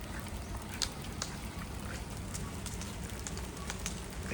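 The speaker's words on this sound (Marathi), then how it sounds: "हे बघा पाऊस यायला लागले." Rain beginning to fall outdoors on the way to Khopoli, a steady broadband patter with scattered sharp drops throughout, fairly close and even.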